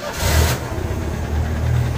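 A 1929 Mercedes Gazelle replica car's engine cranks and catches, a low rumbling churn holding fairly loud and steady over two seconds.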